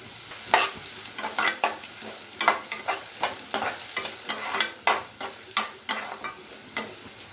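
Green chillies sauté with onions in a pan for Bombay chutney, with a brisk, rhythmic series of spatula strokes scraping the pan over a soft, steady sizzle, close by and without voices.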